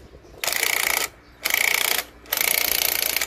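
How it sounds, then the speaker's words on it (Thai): A power tool drives a size 19 nut onto a motorcycle clutch, giving three loud close bursts of rapid ratcheting, each about half a second long, with short pauses between them. "ยิงน็อตเข้าไป"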